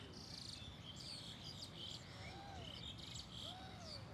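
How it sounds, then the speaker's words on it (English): Birds chirp and whistle in short, scattered calls on a beach, with a steady wash of ocean surf filling the background throughout. "The sounds of the birds."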